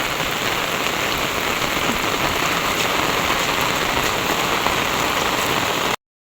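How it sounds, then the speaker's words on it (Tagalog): Heavy rain pours steadily onto surfaces as a dense, loud, unbroken hiss with no voices, cutting off abruptly at the end. "Talaga pong malakas ang ulan"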